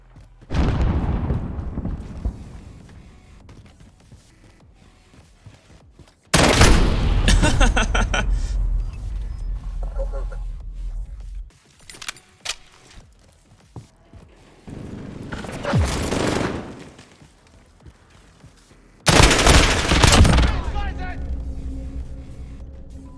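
Overwatch 2 gunfire in a first-person shooter match: loud bursts of shots and blasts come in several separate volleys with short quieter gaps, the last burst trailing into a sustained tone.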